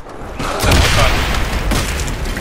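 A Molotov cocktail bursts into flames with a loud, close whooshing roar in Call of Duty: World at War on the Nacht der Untoten zombies map.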